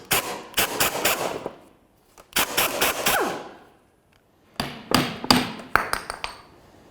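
Impact wrench removes the rear shock mount nut on a 2008-13 Mazda 3 in three loud, close bursts of rapid hammering, each three to five blows long, separated by silent gaps.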